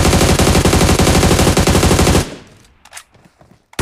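An MG3 machine gun fires in a video game, a loud, rapid, continuous burst of gunfire lasting about two seconds before cutting off into faint rattles and quiet.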